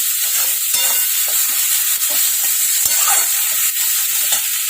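Tomatoes with cumin powder, salt and turmeric cook in butter in a pan, giving a loud, continuous sizzle and hiss with faint stirring scrapes throughout.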